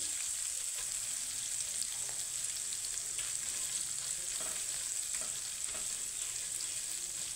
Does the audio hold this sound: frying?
yes